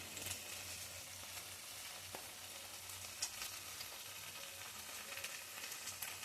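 Butter and fresh cream sizzle gently in a pan over a cooked-down spinach and potato masala for palak dum aloo, a soft continuous frying hiss with faint stirring scrapes, quiet and close.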